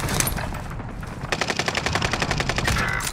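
Automatic gunfire in the video game Warzone, a loud close sustained burst of rapid evenly spaced shots over dense ongoing combat noise.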